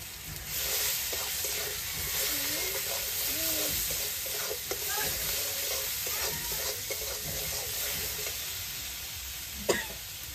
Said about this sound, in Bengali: মশলাটাকে একটু ভালো করে ভেজে নেব